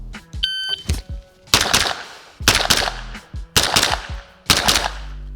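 Carbine rifle fired rapidly at a shooting range, loud sharp shots in several quick strings with brief pauses between, preceded by a few electronic timer beeps.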